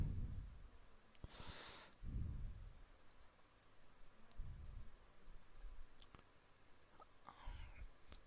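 Computer mouse clicks in circuit design software while drawing a CMOS inverter schematic, a few sparse quiet clicks spread out over faint room noise with soft low thumps, no voices.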